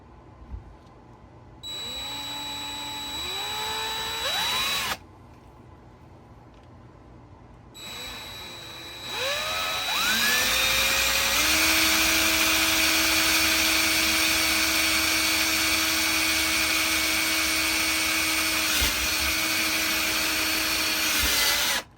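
A power drill bores a hole into the arm of a Sayl office chair, whining up in two short bursts before a long, steady, loud run that holds pitch until it stops.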